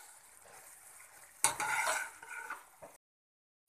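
A spoon stirs a sprouted methi and tomato rice mixture in a pan, a short burst of scraping and mixing lasting about a second and a half before cutting to silence.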